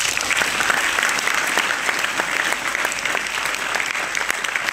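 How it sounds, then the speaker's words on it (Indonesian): Audience applause at a religious gathering of sujud and selawat, sustained and dense for the whole span, with scattered sharp claps standing out from a steady roar of many hands and no talking over it. "Tepuk tangan sikit."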